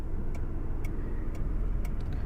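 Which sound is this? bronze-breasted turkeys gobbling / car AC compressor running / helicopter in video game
car AC compressor running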